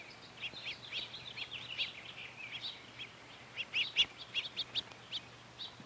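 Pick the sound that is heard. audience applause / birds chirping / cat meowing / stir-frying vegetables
birds chirping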